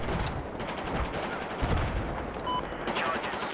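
Rapid suppressed gunfire in Battlefield 2042, a dense continuous rattle of muffled shots, with other battle noise and a few faint distant sniper cracks mixed in.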